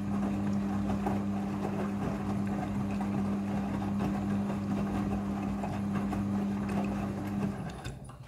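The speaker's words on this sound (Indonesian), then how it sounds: "Kemudian ini adalah proses pemerasan cucian yang kedua." A Midea front-loading washing machine on its spin cycle gives a steady mechanical whir with a constant low hum and rattling, winding down near the end.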